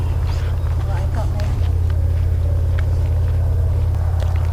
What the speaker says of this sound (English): It's a noisy tractor machine.